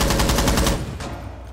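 Rapid automatic gunfire in Rainbow Six Siege, a player spraying bullets into a wall; a loud, steady burst of shots for most of the moment, then tapering into a duller rumble with no voices.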